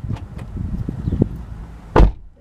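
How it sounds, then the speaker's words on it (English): A door slams once with a sharp, loud bang near the end, after a stretch of soft knocks and bumps. "every time he slams the door, it knocks out the sound."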